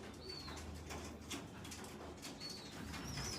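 Pigeons coo in a breeding loft with a steady low murmur throughout, a few brief higher calls, and a faint flutter of wings.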